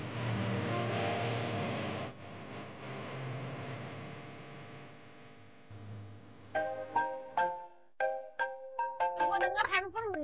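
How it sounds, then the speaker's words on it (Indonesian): A mobile phone ringtone chimes in a drama scene, with a melodic run of tones entering after a stretch of music and repeating in quick bursts toward the end. "Gue denger handphone berdering mulu"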